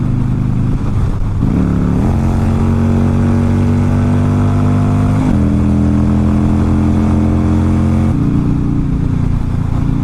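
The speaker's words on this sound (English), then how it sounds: "Gotta love this motorcycle." A heavy 900-pound motorcycle engine revs hard and close, its pitch climbing in stepped surges as it accelerates through gears, loud and continuous with no talking.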